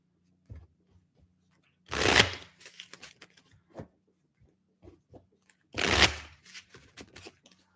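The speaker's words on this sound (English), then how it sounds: "They wanted extra shuffling for you." Reading cards being shuffled by hand in two quick, crisp bursts of riffling, close and clear, with soft handling noises between and near silence otherwise.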